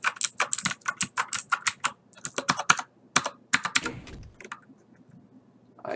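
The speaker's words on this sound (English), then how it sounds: "I'm gonna make a bunch of clicking noises to see if there's any buttons that jump" Rapid computer keyboard and mouse clicking while Doom is played: dense bursts of close, crisp clicks in quick irregular rhythm, easing off near the end, with no voice.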